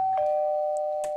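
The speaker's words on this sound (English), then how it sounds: "What about a doorbell like this?" Doorbell sound effect: a sustained electronic ding-dong tone rings out clearly and alone, with faint clicks at its start and end.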